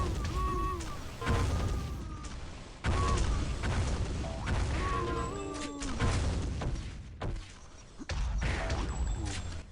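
Grenade explosions and gunfire in a competitive video game tournament match: repeated loud, sharp bursts and crashes in quick succession, with brief gaps between the clusters.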